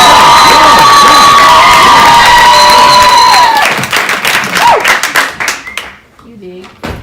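A comedy show audience cheers, shouts and claps loudly in a packed room, the roar holding for several seconds before breaking into scattered claps and whoops that fade out.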